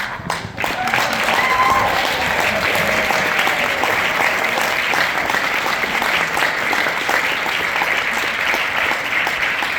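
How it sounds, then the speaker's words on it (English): Sustained applause from a large audience at a leadership summit, dense steady clapping that holds at an even loudness throughout. "Please stand so that we can give you a round of applause."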